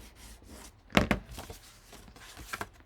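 Glued paper page of a handmade mini album being burnished by hand: short dry rubbing and scraping strokes, a sharper double rub near the middle and fainter passes later, close up and quiet.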